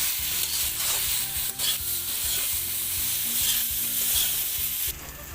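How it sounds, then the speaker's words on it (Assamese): Jujubes fry in a spiced pan for a sweet pickle, a steady loud sizzle broken by repeated scraping strokes of stirring throughout. "এয়া মোৰ বগৰী এতিয়া এনেকৈ ধুনীয়াকৈ ভাজি ল'লোঁ"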